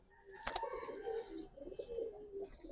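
Giribaz pigeons at a pigeon farm in Old Dhaka coo in low, rolling murmurs, with a sharp knock near the start and thin higher chirps drifting over a steady close background.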